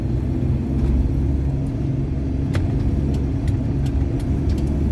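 Road traffic of motorbikes and cars on a journey to Jakarta makes a dense, steady low rumble of engines, close and loud, with brief sharper passing noises mixed in.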